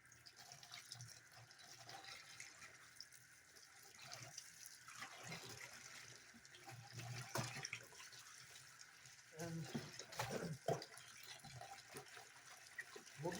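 Tap water runs and splashes steadily as a raw grey fox pelt is washed in a sink, a faint, continuous rush that swells at moments of handling.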